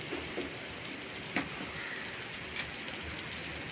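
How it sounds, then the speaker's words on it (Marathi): Rain falling steadily outdoors, a continuous soft hiss of drops with a few faint scattered knocks and clicks, moderately loud and even, no speech. "आपल्याकडे मस्तपैकी पाऊस चालू आहे"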